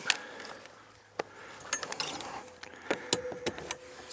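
A telescoping metal antenna mast section slid into a black pole, heard as close scraping, sliding and ratchety clicks with several sharp knocks toward the end, quiet overall and without speech.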